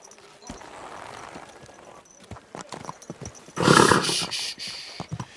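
Horse in the medieval role-playing game Kingdom Come: Deliverance 2, with scattered hoof clops and soft thuds, then a louder burst of snorting or neighing near the end, with a background murmur.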